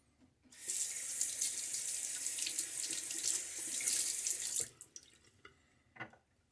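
Water runs from a tap for about four seconds as a razor is rinsed during a wet shave, a steady close splashing stream that cuts off into a few drips and knocks.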